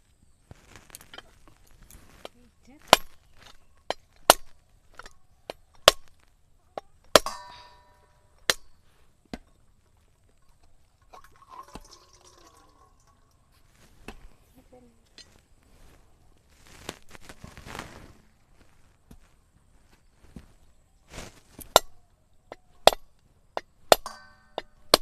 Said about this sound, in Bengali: নারকেলগুলো এবার ফাটিয়ে নেব।